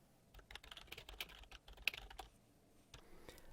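Keys clack steadily on a computer keyboard, a quick irregular run of close, fairly quiet taps with brief pauses, no voices.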